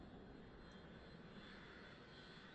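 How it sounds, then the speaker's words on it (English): An airplane takes off in the air traffic control game Mini Airways, a steady, even engine roar that holds at one level, moderately loud, with no talk over it. "Runway 31, cleared for takeoff."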